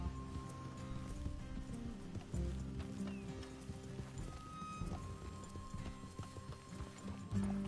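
Horses in the Red Dead Redemption 2 video game clip-clop with steady hoofbeats at a walk, close and fairly loud over a low background with faint music tones.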